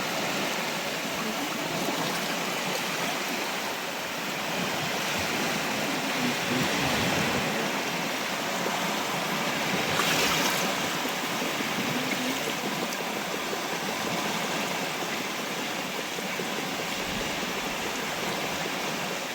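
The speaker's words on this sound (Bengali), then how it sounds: "এখন হচ্ছে ঢেউ, ভীষণ ঢেউ উঠে গেছে।" Big waves break on a river bank after a storm, a steady loud rush of churning water and spray that continues without pause, heard close with no talk.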